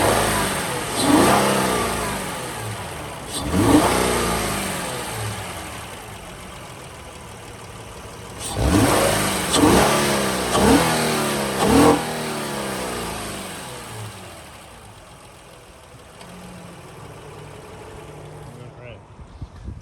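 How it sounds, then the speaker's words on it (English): A 2007 Honda Odyssey EX-L minivan engine revs up to higher RPM in several distinct rising bursts, dropping back toward a steady idle between them, close and fairly loud. "I'm going to rev it up a little bit. Not that it's a race car, but just so you can hear a little higher RPM."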